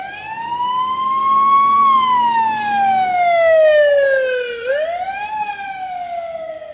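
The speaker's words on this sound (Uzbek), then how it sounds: "tez yordam mashinasi sizga yaqinlashib kelayotganida uni sirenasi ovozini balandroq eshitasiz" An ambulance siren wails loudly and steadily in a long rising-and-falling tone, then drops sharply in pitch as it passes, showing a clear Doppler shift. A low engine rumble runs beneath it early on, and no one speaks.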